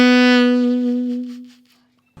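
A single sustained instrument note from a phrase of a song, entering on a quick grace note and ringing clearly before fading out over about two seconds, with no talking.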